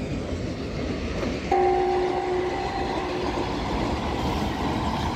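A train passes on a railway track beside residential plots in Phursungi, a continuous rumbling roll with a clear horn blast sounding for about a second partway through, fairly close and with no voices.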